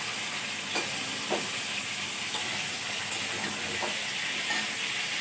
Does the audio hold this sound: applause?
no